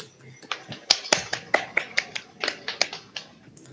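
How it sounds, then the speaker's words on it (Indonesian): In a classroom, a few people clap for a student in sparse, sharp, separate claps that form an uneven rhythm and stay close and fairly quiet. "Kasih tepuk tangan untuk Mas Rifki."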